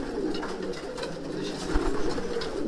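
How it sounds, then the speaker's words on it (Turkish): Homing pigeons of the Karadayı line coo low and steady in a loft, a murmuring close-up burble under faint background rustling. "Bu güvercinimiz de Karadayı soyundan bir kuş."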